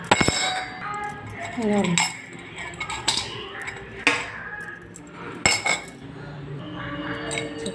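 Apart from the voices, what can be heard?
metal chakli press mould being handled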